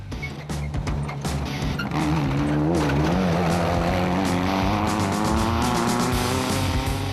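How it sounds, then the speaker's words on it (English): Off-road race cars compete in the Drak 250 off-road race, engines roaring loud and continuous with shifting revving pitch and sharp transient bursts throughout, no talking. "McLean and van Dort would soon pass the Zarko, which would also be caught and overtaken by Amanda Botma in the Missile."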